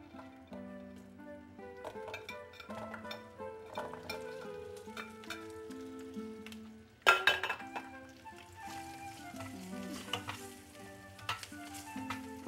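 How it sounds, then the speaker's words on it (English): Garlic sautéing in a pan for rosemary chicken gives a faint sizzle with occasional clinks of a utensil, sitting under prominent background music, with a louder burst of frying and clatter midway. "We'll just saute for about maybe 1 minute, golden."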